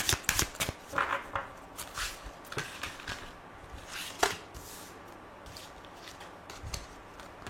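Tarot cards shuffled by hand close to the mic for a reading, a quiet, irregular run of soft slaps and riffles with no talk.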